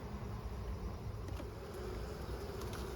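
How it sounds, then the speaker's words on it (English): Honeybees buzz inside a hive after a killing frost, a dense, steady, close drone that fills the whole moment without pause. "This hive just runs noisier than the other ones"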